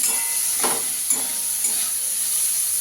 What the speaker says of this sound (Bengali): একটু নুন দিয়ে দেবো, দিয়ে মাছটাকে একটু ভেজে নেব